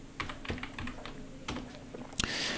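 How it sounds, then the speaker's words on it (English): Keys clatter on a computer keyboard while a web address is entered, a short burst of close, irregular clicks and taps with a few louder strokes near the end. "Let me type that in."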